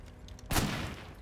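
Gunfire in the World War II shooter Wolfenstein: The Old Blood comes as a sudden loud burst of shots after quiet background sounds, then a rumbling tail, with no talk over it.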